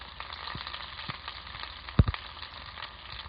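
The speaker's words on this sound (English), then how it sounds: "Give you a close-up here as it sizzles." Tilapia sizzles in a frying pan, a steady close crackle and hiss with a few sharper pops and one stronger knock partway through.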